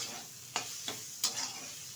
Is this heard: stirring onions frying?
yes